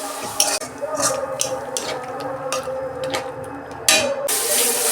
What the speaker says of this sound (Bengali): মশলাটা আমি 2 মিনিট কষে নেব।